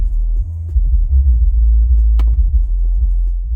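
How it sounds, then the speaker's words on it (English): Deep, loud bass from a 10-inch active under-seat subwoofer inside a truck cab, throbbing continuously in the low end with a brief rattle of the cabin partway through; no talking. "I can hear a lot of shake though in the truck."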